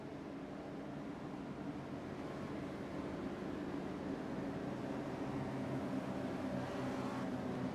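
Race cars roll behind a Porsche safety car at Phoenix Raceway, making a steady, distant engine drone that stays faint and even throughout with no distinct passes.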